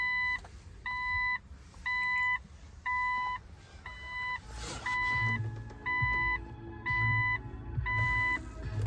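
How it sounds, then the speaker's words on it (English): An aftermarket Android DAB radio fitted in a London black cab beeping repeatedly, a regular train of short, loud electronic tones about every half second, over low engine rumble and cabin noise. "It's still annoying with it beeping a lot."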